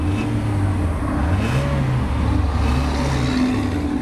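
A 1998 Honda Civic EX Coupe with 163,000 miles runs nearby, its engine giving a steady idle hum with a couple of light revs rising and falling, no voices.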